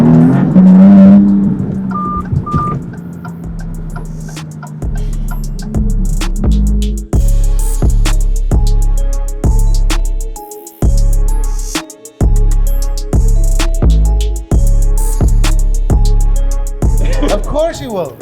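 A Maserati MC20 driven hard, its engine surging and revving through repeated gear changes, loud and close, with stepped bursts of acceleration and brief lifts between them.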